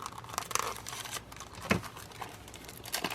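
Plastic packaging on a model car magazine being cut and pried open with a dull X-Acto knife, close crinkling and crackling with a few sharp snaps and tearing sounds.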